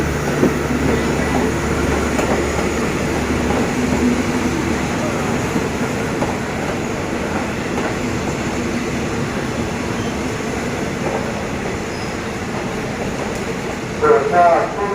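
A Hitachi 4501 locomotive brings rapid train 109 from Chiang Mai into Bang Sue Junction with a steady, loud rolling rumble and faint clatter, while a voice talks over it throughout.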